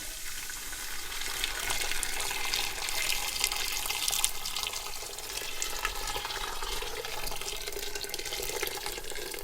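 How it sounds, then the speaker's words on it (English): About 2 liters of boiling water poured in a steady stream into a pot, splashing and hissing continuously for several seconds, close by with no speech. "I'm going to add some water, about 2 liters of water, boiling water"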